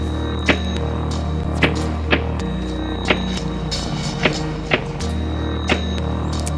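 A synthesized snare drum from a Reason Osmose synth, processed with a hall reverb, strikes repeatedly in an irregular pattern, each sharp crack trailing into a roomy tail over a steady low hum.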